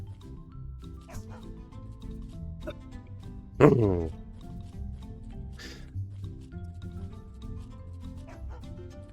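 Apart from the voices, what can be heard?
dog barking in video game Mika and the Witch's Mountain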